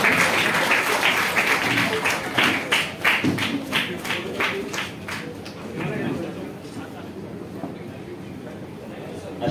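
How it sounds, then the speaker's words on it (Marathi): A crowd at a movie trailer launch event claps loudly and fast, then the applause fades away over several seconds while people talk through it. "आणि जोरदार टाळ्या होऊन जात."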